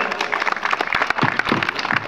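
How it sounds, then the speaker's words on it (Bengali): A crowd claps steadily at a ceremony honouring a guest at the Season 4 opening of the Barrackpore football league in Subhash Nagar Colony. The dense, continuous patter comes from many hands, with a few voices faintly mixed in. "হাততালি জোরে।"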